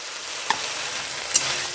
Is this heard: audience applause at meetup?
no